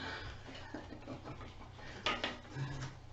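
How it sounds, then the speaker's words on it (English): A spoon works an egg into zucchini fritter batter in a bowl, with faint scraping and stirring, a few soft clinks against the bowl, and a louder knock near the end. "Now I'm going to throw in 1 egg and mix all that together"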